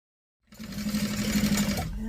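A sewing machine stitches a 3/8-inch seam on a guitar bag, backstitching at the start and end; a steady, close, continuous motor hum with needle rhythm starts after a brief silence and runs without talk.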